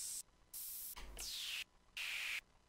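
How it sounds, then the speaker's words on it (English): Bursts of bright white noise switch on and off in a choppy rhythm, with a reverberant swoosh tail trailing off after one burst. "it's going to get reverb on the noise"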